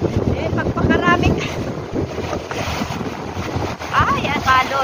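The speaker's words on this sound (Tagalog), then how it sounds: "Ay, ang alon." Rough sea churns around a small boat, loud waves and wind roaring steadily while people call out over the noise.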